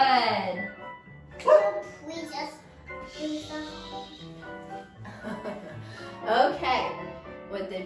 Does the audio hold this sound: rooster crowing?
no